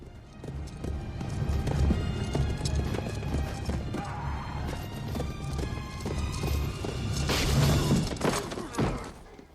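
Horse hooves clip-clop steadily through a loud medieval battle scene from a historical war film, mixed with clashing, thuds and a horse's whinny over a dense, busy soundtrack.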